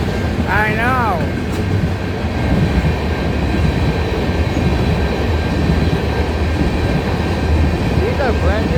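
A westbound freight train rolls past nearby with a steady low rumble throughout, broken by brief high wheel squeals near the start and end, while people chat over the noise.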